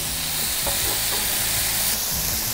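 Bacon fries in a small pan with a dense, continuous sizzle and crackle, steady and close throughout with no talking.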